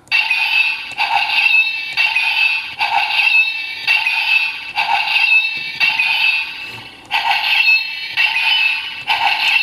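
A loud electronic toy sword sound effect whirs in repeated pulsing bursts, looping steadily, close and with no talking.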